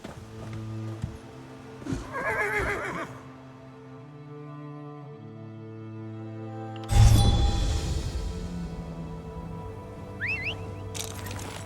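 Horses whinny loudly in The Elder Scrolls Online over a steady musical backdrop, followed by a burst of hoofbeats and shuffling, with a softer neigh near the end.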